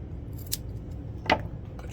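Scissors snipping strips of tennis racket tape, two short crisp cuts about a second apart, close and fairly quiet.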